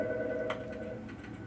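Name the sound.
phone ringing in The Stanley Parable video game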